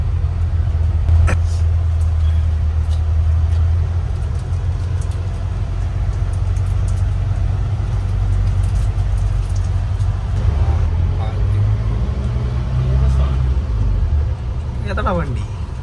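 A Toyota Land Cruiser on a private farm runs after a cold start, a deep, steady, close engine rumble holding throughout with faint clicks and knocks on top.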